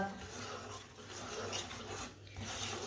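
Lentils roasting in a pan for winter panjiri, a soft dry scraping and rustling as a spoon stirs them, faint and close with no talk over it.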